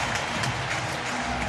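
A baseball stadium crowd at a Yankees–Rays game cheers after a fly ball out, a dense, steady roar of voices and applause filling the whole moment.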